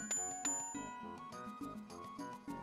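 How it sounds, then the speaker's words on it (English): A bell rung in the Super Mario RPG video game, a few bright chiming strikes in a short repeating pattern over the game's background music. "You can actually ring a bell."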